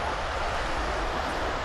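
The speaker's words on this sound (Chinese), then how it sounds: "然后这边也没有电动车，所以车的声音就特别大" Petrol cars rush past on a main road in Osaka, a loud continuous close roar of traffic without electric vehicles, steady throughout with no talk.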